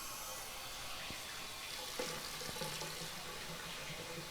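Steady hiss of running water from a tap, continuous and fairly faint, with a few soft clinks and a brief low tone in the background.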